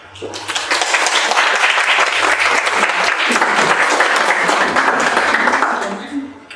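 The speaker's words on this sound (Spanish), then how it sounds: "Démosle un fuerte aplauso." An audience applauds at the start of a conference on cyberbullying in adolescents, loud and close, the clapping building quickly, holding steady for several seconds, then tapering off at the end.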